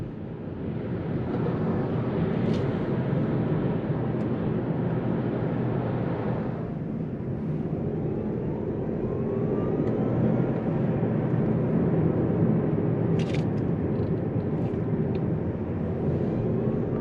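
Kia Niro EV or Hyundai Kona Electric on a test drive after a reduction gear replacement, a continuous low road and drivetrain rumble with steady cabin hum, no pauses.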